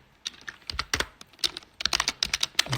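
Typing assembly code on a computer keyboard, with quick irregular bursts of close, crisp key clicks and short pauses between words, no voice.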